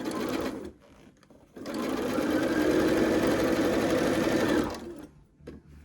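Sewing machine stitching quilt fabric: a close, steady mechanical whirr runs for about three seconds, framed by brief shorter runs and quiet gaps, with no voices.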